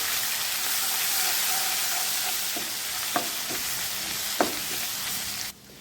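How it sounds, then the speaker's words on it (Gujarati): Ginger, garlic and chili paste sizzles steadily in a hot pan for Rajasthani methi curry, a loud constant fry with a few spoon clinks from stirring before the sizzle cuts off abruptly. "આદુ લસણ અને મરચાંની પેસ્ટ તૈયાર કરી હતી તે ઉમેરશું અને સાતળી લેશું"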